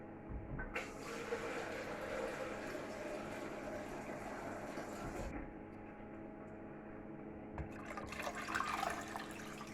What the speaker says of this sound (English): we need to cover it with cold water